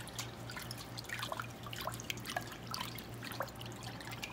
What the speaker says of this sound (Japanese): 結構水多めなんで、これをよく混ぜときます。